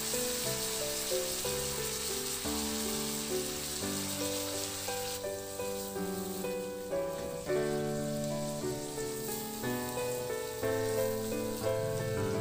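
Shrimp sauce sizzles and crackles in a pan while being stirred, a steady continuous frying hiss under background music.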